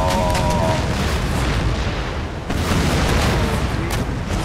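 A galleon's cannon broadside booms in Empire Total War at sea, two heavy rolling blasts, loud and close, the second starting halfway through.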